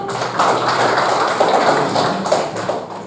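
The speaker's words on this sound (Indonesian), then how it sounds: "Berikan aplaus dulu." A classroom group claps together for about three seconds, a dense, fairly loud patter of many hands that starts abruptly and fades slightly toward the end, with no talking.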